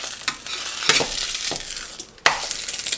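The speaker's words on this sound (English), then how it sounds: "we'll flip it with our metal spatula" A metal spatula scrapes and flips food in a Blue Diamond nonstick frying pan over steady sizzling, with a few sharp scraping strokes and a brief lull before one more clatter.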